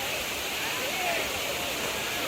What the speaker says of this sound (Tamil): தண்ணி ரொம்ப மேலேருந்து வர கொட்டுறது கம்மியாக தெரிஞ்சிச்சு